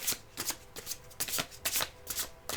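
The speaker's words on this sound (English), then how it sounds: "One more shuffle." Tarot cards being shuffled by hand in quick repeated riffles, close and crisp, each burst of flicking followed by a brief pause, no talking.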